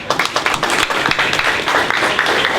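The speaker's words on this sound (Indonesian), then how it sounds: "Tepuk tangan dulu dong" Audience clapping at a community cultural event in Jatibening, Bekasi, loud and close, a dense run of many hands with quick irregular claps throughout.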